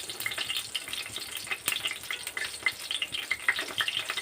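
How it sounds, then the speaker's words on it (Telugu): Stuffed brinjals frying in oil make a soft, crackling sizzle with scattered pops and spatters, close and fairly quiet, with no talking. "చక్కగా ఆయిల్లో పెట్టేసుకుని ఒక పక్కన మనం పెట్టే వంకాయలు అలా వేగుతూ ఉంటాయి"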